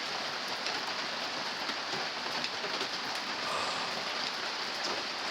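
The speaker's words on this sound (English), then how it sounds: "This side is dry, but this side's getting rained on." Steady rain patters onto a teepee and a wooden board, with droplets dripping onto the board, forming a continuous, close, even hiss with no voices.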